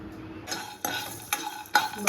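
Coriander seeds, clove and cinnamon are dry roasted in a pan, giving a few quick, close scraping stirs with short bursts of rattling and faint sizzle between them, and no talk.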